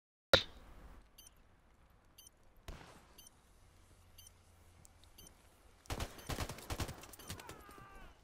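Gunfire in a two-on-two search and destroy video game match: one sharp crack early, another a few seconds later, then a dense rapid burst of shots near the end.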